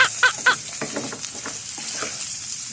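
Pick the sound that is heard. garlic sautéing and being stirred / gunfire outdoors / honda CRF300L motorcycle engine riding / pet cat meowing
garlic sautéing and being stirred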